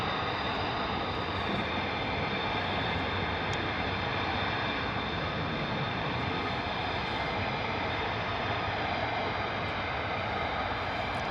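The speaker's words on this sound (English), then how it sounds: "Comes another F-15." Boeing F-15 fighter jet flying over RAF Lakenheath, a continuous heavy roar with deep rumbling low end and a thin high whine, loud and sustained without pause.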